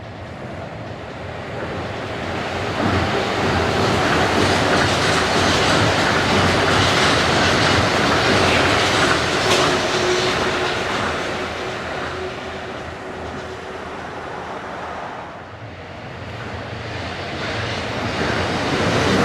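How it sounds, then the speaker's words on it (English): A rapid service train rushes through a station up close with a loud, sustained roar and rattling wheels, swelling and easing as carriages go by, then building again. "I want to see the rapid service pass by here."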